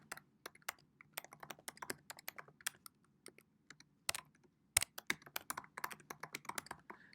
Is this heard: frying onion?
no